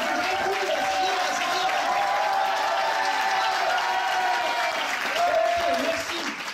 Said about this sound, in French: alors vous faites du bruit, allez-y, faites du bruit!